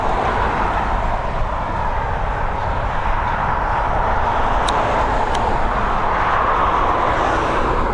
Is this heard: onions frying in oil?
no